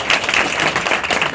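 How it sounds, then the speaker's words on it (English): Brief burst of audience applause at a talk on racial equity and the census, loud and close, a steady patter of many hands with no voices over it. "Let's give Shawn a round of applause."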